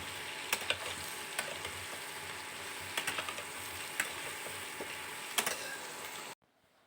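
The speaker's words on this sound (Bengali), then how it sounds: "এবার আমি ভালো করে একটু ভেজে নেব আলুর সাথে" Soybean chunks fry with potatoes in a pan, giving a soft, steady sizzle with scattered ticks and scrapes of stirring; fairly quiet, no voices, ending in abrupt silence.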